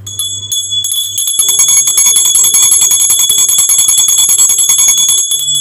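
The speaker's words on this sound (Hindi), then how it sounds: "अगर हम घंटी बजाएंगे तो आपको आवाज़ नहीं आएगी, इसलिए हम थोड़ी देर तक ही घंटी बजाने वाले हैं।" A small metal hand bell rings rapidly and continuously during a puja for consecrating a new idol. Its bright, piercing peal is loud and close, after a couple of brief low hums at the start.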